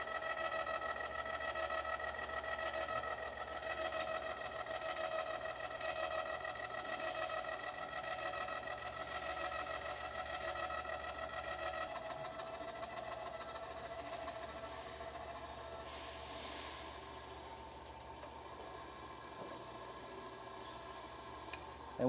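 Electric tongue jack on a trailer hitch lowering the tongue, a steady mechanical motor hum with faint whine, quiet and continuous throughout with no talking.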